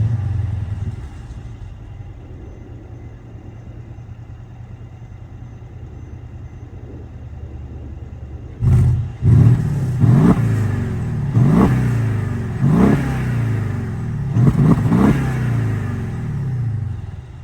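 A stock Mercedes CLS550 V8 engine sits at a steady low idle, then revs sharply in several loud, rising blips about a second apart, each falling back to idle, close by with no talking.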